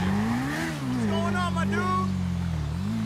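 Motorcycle engine accelerating in the video game GTA 5, a steady mid-pitched drone that rises and falls in pitch, with a voice talking over part of it.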